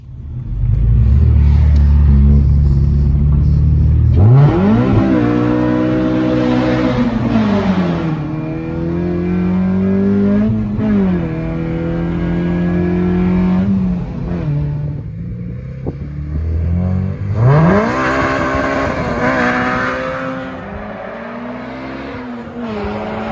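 A car engine idles with a low rumble, then revs up repeatedly in rising and falling sweeps, loud and close, with no one talking.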